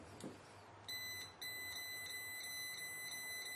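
Electrical voltage tester beeping on detecting live power at a wall outlet during a GFCI install, emitting a steady high pitched electronic tone with regular pulsing beeps after a brief first chirp, close and clear with no talk.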